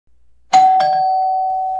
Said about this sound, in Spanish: cada vez que toco el timbre,